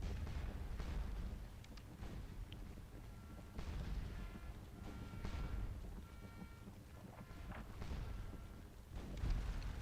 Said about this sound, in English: You, sir, are taking damage from enemy artillery.